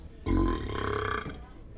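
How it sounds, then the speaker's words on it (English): A single loud, drawn-out burp up close, rising abruptly and rumbling for about a second before trailing off. "I'm really feeling the urge to fart and burp right now."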